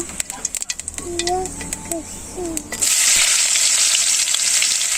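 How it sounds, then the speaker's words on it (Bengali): Chopped onions hit hot mustard oil already holding bay leaf and cumin, and after some clinks and a short whistling sound the pan erupts into a loud, steady sizzle that continues to the end. "এখন দিয়ে দিই পেঁয়াজ কুচি"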